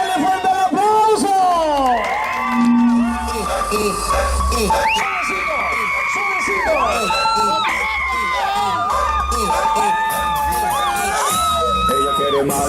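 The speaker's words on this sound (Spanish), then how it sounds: "¡Démosle fuerte el aplauso!" Crowd at a car show in El Coyolito shouting, whooping and cheering loudly and continuously, with excited voices and yells overlapping throughout.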